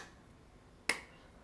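A single crisp hand clap cracks out once, sharp and short, against a faint quiet background, marking the beat during a beginner guitar-and-singing lesson.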